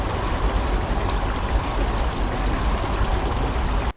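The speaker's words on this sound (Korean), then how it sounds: "잠시 물소리를 들으며 휴식해 보시죠." Water flowing steadily along a stream in Saetgang Ecological Park, a continuous close, even rushing wash with no voices.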